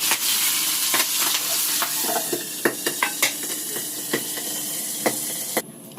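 Broiler chicken pieces fry in a hot pan for a tomato and coriander curry, a loud continuous sizzle punctuated by repeated scraping clicks of a spatula stirring the meat.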